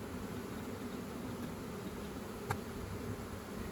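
Many bees hum in a dense, continuous buzz around a hive, steady and close, with no voices.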